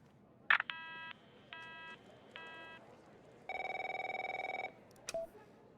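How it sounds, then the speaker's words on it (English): Telephone rings in the video game Operator: a few short electronic ring bursts, then a long buzzing ring and a click, close and clear against a quiet background. "My phone's ringing off the hook here."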